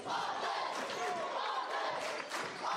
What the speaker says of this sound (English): there's the rowdy crowd getting loud, getting proud for their team.